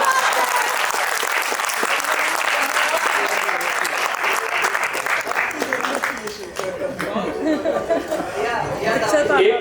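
Sustained, full applause from a Hindi poetry recital audience at a kavi sammelan, loud and dense for most of the stretch, easing slightly near the end with voices and chatter mixed in.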